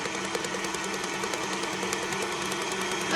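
Electric stand mixer fitted with a whisk attachment beats sugar cookie batter, giving a steady, loud motor whir with a constant rattling drone that holds level throughout, with no talking.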